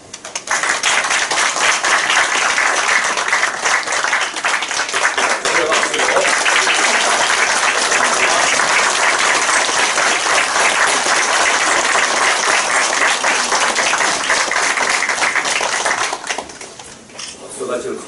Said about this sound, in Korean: 박수가 제일 컸던 것 같습니다.